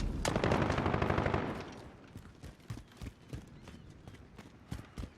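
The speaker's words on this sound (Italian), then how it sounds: "Ma spara quello con la torretta, no, a me deve sparare." Loud sustained burst of rapid automatic turret machine-gun fire in Call of Duty: Modern Warfare for about two seconds, then scattered lighter shots and impacts trailing off at lower volume.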